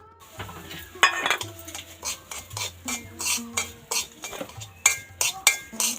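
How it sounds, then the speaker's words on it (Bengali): Semolina being stirred and roasted in ghee: a spatula scrapes and clinks against a metal pan in uneven repeated strokes over a faint sizzle, close and with no talking. "সুজিগুলো একটু নেড়েচেড়ে ভেজে নেব।"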